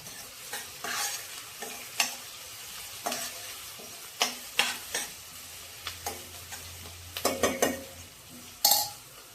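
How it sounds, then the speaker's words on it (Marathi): Onion sautéing with curry leaves in a home-kitchen pan, heard as a run of sharp spatula scrapes and clinks in irregular bursts over a faint sizzle and low hum, with no talking. "आता हा कांदा परतल्यावर त्यावर कढीपत्ता घातलाय."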